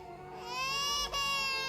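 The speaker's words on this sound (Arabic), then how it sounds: "صوت الولد بيعيط." A baby boy cries in a sustained wail from another room, rising and steady, with a brief catch of breath partway through, moderately loud and alone.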